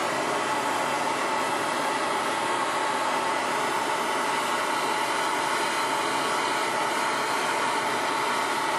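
A MAP/Pro gas torch heating copper pipe gives a steady, loud, broadband roaring hiss that holds unchanged for nearly nine seconds, with no voices.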